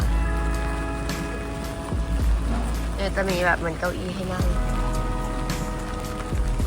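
Rain falling in an open park square in Taiwan, a steady patter on surfaces with passing traffic hum behind, while someone talks over it close by.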